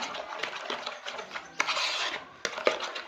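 Spoon scraping and clinking against a bowl as ghee is mixed into cake rusk batter, a close, busy run of small taps and scrapes with a few sharper knocks.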